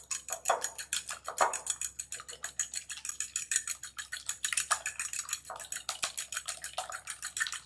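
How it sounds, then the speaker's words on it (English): A whisk beats an egg in a bowl with quick, rhythmic clicking strokes, steady and close for several seconds, with no talking. "We're going to take the egg and go ahead and whisk it."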